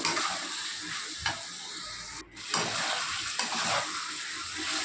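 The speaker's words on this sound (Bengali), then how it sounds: "মাশরুম, আলু আর মশলাটা সব একসঙ্গে কিছুক্ষণ কষিয়ে নেব।" Mushrooms, potatoes and spices sauté in a pan with a steady sizzle and frying hiss, broken by occasional stirring scrapes and a brief lull.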